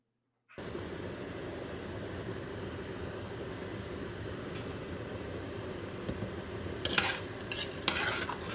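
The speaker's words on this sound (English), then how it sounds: "Now go ahead and add your grinded vegetable mix. Go ahead and add that to the pot." Ground vegetable mix is stirred into a pot of hot pepper soup, with a steady close wet churning and faint sizzle throughout, plus a few sharp clinks of a utensil near the end.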